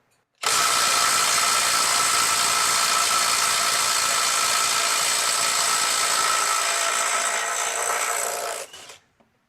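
A Makita XLT03/XLT04 18V brushless right angle impact wrench runs in reverse on mode 3 at 350 foot-pounds, breaking a fastener free in one loud, continuous hammering whir of about eight seconds that cuts off abruptly.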